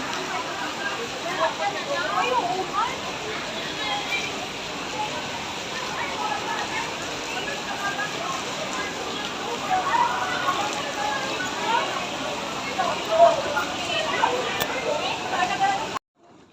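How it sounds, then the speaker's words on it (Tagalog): Sudden rain in Singapore falling steadily as a dense, even hiss on surfaces, continuous and fairly close, with faint voices underneath. "Maulan."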